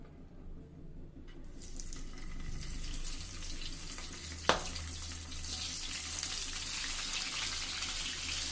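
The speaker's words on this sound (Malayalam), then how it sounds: "ഓയിൽ നന്നായി ചൂടായി വന്ന അതിലേക്ക് മാരിനേറ്റ് ചെയ്ത പ്രോൺസ് ഓരോന്നായിട്ട് ചേർത്ത് കൊടുക്കാം." Marinated prawns added to hot oil in a pan, cooking over medium-high flame, give a steady broadband sizzle with a brief sharp crackle as one lands, continuous and close throughout.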